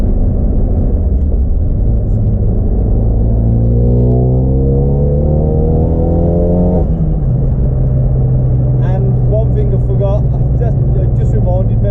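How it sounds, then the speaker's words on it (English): Loud, steady road roar and low rumble fill the cabin of a car on semi-slick tyres, with engine tones rising under acceleration and a driver talking over the noise. "the road noise on these tyres are horrific"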